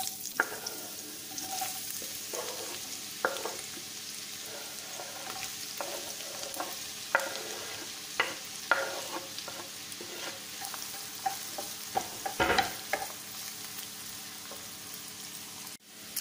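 Onion sizzles steadily in a preheated frying pan while a utensil stirs it, bringing irregular scraping clicks and one louder clatter over the constant frying hiss, no talking.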